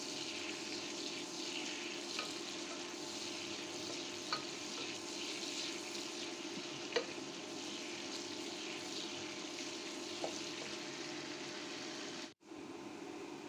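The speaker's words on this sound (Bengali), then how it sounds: "পেঁয়াজ গোল্ডেন ব্রাউন করে ভেজে নেব।" Onions fry in soybean oil in a cooking pot, a soft continuous sizzle with a few faint clinks of stirring, quiet and without talk, ending in a brief dropout.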